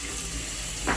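Water poured into a cooking pot while vegetables boil for an Amavasai meal, heard as a short soft splash of liquid near the end, close and quiet.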